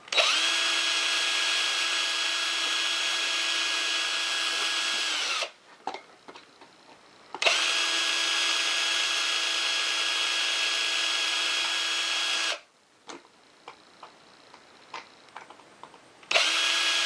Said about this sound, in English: Let's go ahead and drill these out though.